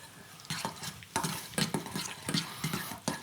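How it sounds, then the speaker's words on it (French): Sauce of mustard and mustard seeds, pepper, salt and oil from tinned sardines being stirred in a bowl, giving a series of short scraping, clicking strokes in an irregular rhythm, close and fairly quiet, with no talking. "bien mélanger l'ensemble"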